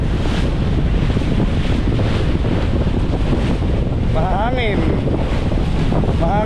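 Strong wind roars across a microphone on a boat crossing to Cebu, loud continuous buffeting over sea and boat noise, with a faint voice briefly audible beneath.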